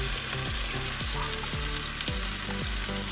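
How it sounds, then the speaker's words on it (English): Tomatoes sauté in a hot pan for butter chicken, giving a steady, close sizzle and crackle with soft stirring, while a rhythmic low musical pattern plays underneath throughout. "saute the tomatoes. Until they're soft."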